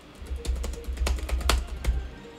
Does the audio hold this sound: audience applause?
no